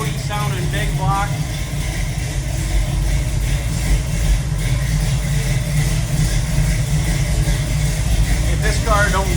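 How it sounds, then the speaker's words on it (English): Big-block 396 V8 of a 1968 Chevy Nova SS idling with a steady, throaty low rumble that runs the whole time, loud and close, with a few voices in the background. "Nice, healthy, throaty sounding big block."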